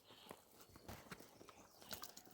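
An ox walks while pulling a plough through a farm field, its hooves landing in soft, irregular thuds that sound faint and somewhat distant against a quiet outdoor background.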